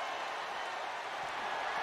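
Crowd cheering in a WWE 2K wrestling video game during a Roman Reigns vs Brock Lesnar Extreme Rules match: a steady, dense wash of arena crowd noise, fairly faint, with no distinct voices standing out.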